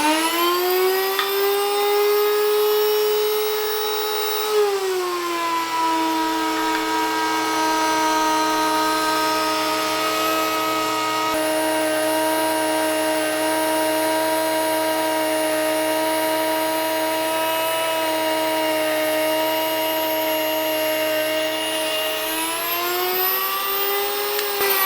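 An electric Wonder Mill grain mill grinds einkorn grain with a loud, steady high-pitched whir, starting higher in pitch, dropping as the grain goes in and holding level, then rising again near the end.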